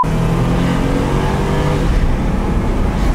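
Continuous engine roar from a Mercedes S560 or Nissan Laurel C32 launching in a street drag race, loud and steady with a rising engine note, no voices.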